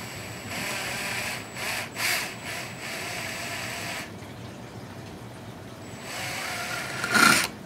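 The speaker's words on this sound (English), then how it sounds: "I'll drop it down on here while I'm drilling." A drill bores into parts of a Losi 5ive B RC car in several steady whirring runs, stopping and starting, close by with a brief louder rattle near the end and no talking.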